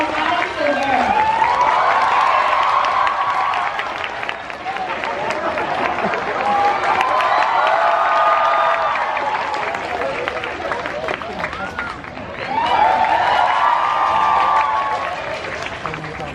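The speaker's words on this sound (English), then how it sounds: "let's all give a warm round of applause to Becky Albertalli and Adam Silvera" Audience applause at a book tour event welcoming authors Becky Albertalli and Adam Silvera, sustained clapping and cheering from a crowd that swells in waves, with a louder burst near the end.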